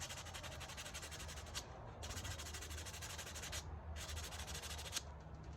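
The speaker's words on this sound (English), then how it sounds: "I'm just gonna hit it with some sandpaper, a little in my hand." Aluminum hand sanded with a small piece of sandpaper, producing continuous close rubbing strokes in a repeating back-and-forth rhythm, each stroke a broad scratchy hiss.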